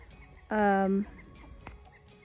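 A single harmonic chicken call, loud and drawn out for about half a second, like a hen's squawk, over faint background noise.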